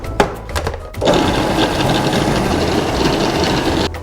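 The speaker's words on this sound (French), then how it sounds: "maintenant on va mettre les oignons à hacher, le persil et la coriandre. Et on va mixer le tout." Blender chopping onions, garlic, parsley and coriander: a short stutter of pulses, then about three seconds of steady loud whirring motor grind that cuts off abruptly.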